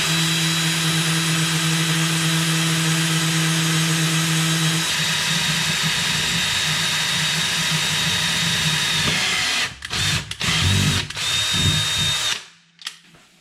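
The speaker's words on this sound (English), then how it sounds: "So we're going to use a 3mm drill bit." A power drill with a 3mm bit bores a pilot hole through steel, a loud steady whine that shifts pitch midway as the bit bites, then sputters and stops near the end.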